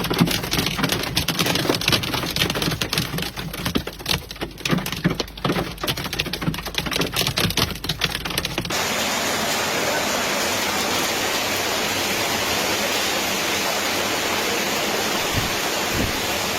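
Large hail pounding down during a severe storm in La Rioja, Spain: a dense, loud clatter of hard impacts for about nine seconds, then giving way to a steady, even rushing roar.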